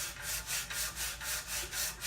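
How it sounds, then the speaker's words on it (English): Coarse 80 grit sandpaper rubbed along the grain of a wooden piece, rhythmic back-and-forth strokes about four per second, close and steady with no talking. "I'm using an 80 grit sandpaper, so it'll take off quite a bit."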